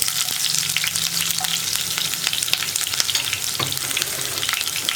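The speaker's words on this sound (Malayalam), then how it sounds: "അപ്പോൾ നമുക്കിനി ഉള്ളി ചേർത്ത് കൊടുക്കാം." Sliced onion rings hit hot oil with mustard seeds and fry in a steady, close sizzle, with occasional light stirring clicks and pops continuing throughout.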